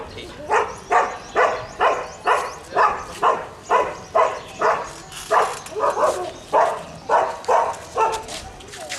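A nine-month-old German shepherd puppy barks in a steady, evenly spaced series of about fourteen sharp barks, fairly close, with faint background noise between them.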